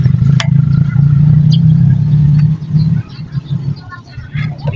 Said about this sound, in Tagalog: Tapos check na natin, paandarin kung okay na yung motor ni boss.